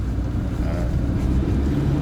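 A 1995 Kia Pride with a manual gearbox revs its engine in a steady, rough, low drone that stays at the same loudness throughout, heard from inside the car, with no talking.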